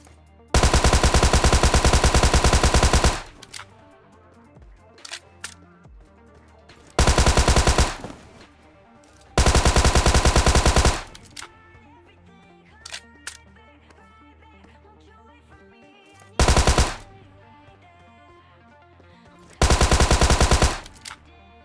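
Tommy gun fire in PUBG Mobile, heard as five loud sustained bursts of automatic fire, each lasting about one to three seconds, separated by quieter gaps that carry scattered clicks and faint game sounds.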